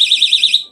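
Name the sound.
personal emergency alarm sounding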